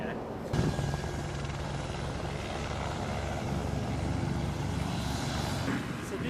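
Helicopter on a New Zealand flight outing, its rotor and engine roar steady and fairly loud throughout, with speech mixed in beneath the drone.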